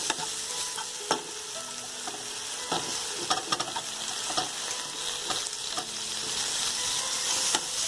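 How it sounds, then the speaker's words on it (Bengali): Spices and prawns sautéing in a pan for a Bengali prawn curry: a steady close sizzle with repeated sharp spatula scrapes and stirring clicks throughout, no voices. "এবার এটাকে ভালোভাবে কষতে থাকবো"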